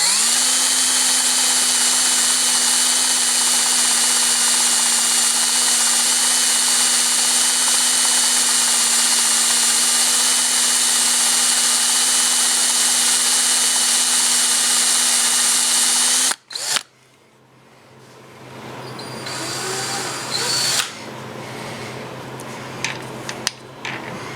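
A power drill bores out stripped head bolts on a Suzuki engine, whining loud and steady for about sixteen seconds before stopping abruptly, followed by quieter clicks and handling noises.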